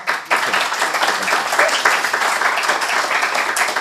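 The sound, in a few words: audience applause at a conference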